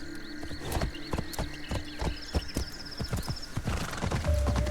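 A horse in Assassin's Creed Shadows trots in with quick, close clip-clop hoofbeats, and a neigh rings out over the rhythmic footfalls.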